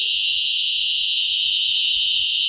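A fire alarm shrieks continuously at a loud, steady, piercing pitch throughout, with faint low rumbles and movement beneath it and no talking.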